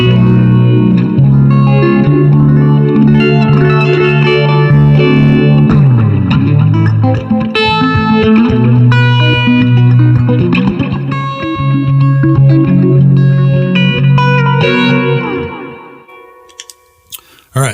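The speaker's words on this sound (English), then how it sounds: "And phaser." Electric guitar through a Blackstar Amped 2 phaser effect, sustained chords and picked notes with a sweeping, swirling tone, loud and continuous, fading out near the end.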